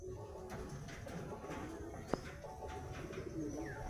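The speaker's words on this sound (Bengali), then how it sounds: "এ হচ্ছে পায়রা, এটা ছেলে।" Caged Giribaz pigeons, a male among them, coo faintly and steadily in a quiet indoor room, a muffled low murmur with one sharp tap partway through.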